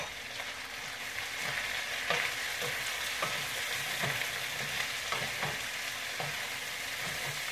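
Cabbage with garlic and a couple tablespoons of butter sizzles steadily in a pan, broken by repeated scraping stirs at a loose, irregular rhythm.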